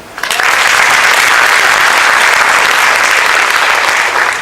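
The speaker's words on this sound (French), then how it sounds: "les applaudissements, c'est bien, on aime bien quand même les applaudissements" Indoor audience at a performance event breaking into loud, sustained applause that starts abruptly and continues as a dense, even wash of clapping throughout.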